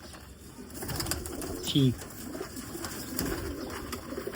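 Pigeons coo in a Lahore loft of teddy pigeons kept by a fancier, soft repeated calls set among steady background noise, with a brief sharper call near the middle and someone speaking at moments.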